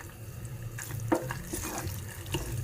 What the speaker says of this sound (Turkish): Suyumuzu döküyoruz.